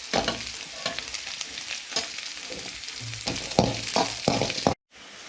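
Beans being fried in a pan for veg Manchurian give a steady close sizzle, broken by repeated stirring scrapes, then cut off abruptly near the end.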